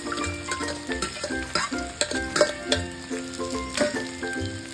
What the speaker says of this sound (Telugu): నేనైతే ఈ ఫ్రై చేస్తున్నాను ఈరోజు, బెండకాయ ఫ్రై